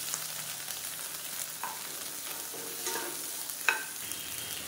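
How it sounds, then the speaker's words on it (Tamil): Onion and halved tomatoes sautéing in a pan, a continuous close sizzle with intermittent stirring scrapes and a sharper clink near the end, no talking. "இதையும் நல்லா வதக்கி விட்டுக்கலாம்."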